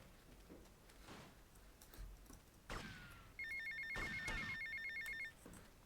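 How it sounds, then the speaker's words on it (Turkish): In-game mobile phone ringing in GTA Vice City, a bright electronic ringtone trilling in a rapid repeated pattern for about two seconds, set among clicks, thuds and game sound effects. "Telefon yine çalıyor bu arada."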